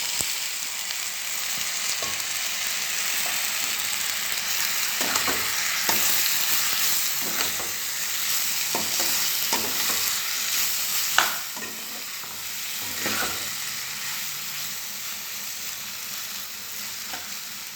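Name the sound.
marinated pointed gourd (potol) frying in oil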